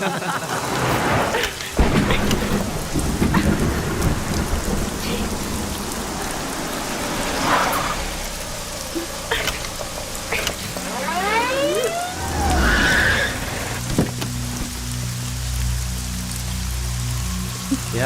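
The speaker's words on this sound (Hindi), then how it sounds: "बरसात है ना" Heavy rain pours through a thunderstorm, a dense, constant roar broken by rumbling thunder and a distant rising siren wail, with no voices.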